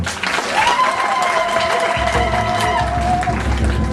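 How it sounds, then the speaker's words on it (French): A crowd at a 35th-anniversary celebration for a religious leader keeps up steady, dense applause from start to finish, with a sustained high tone running through the middle. "On peut encore applaudir, je vous en prie"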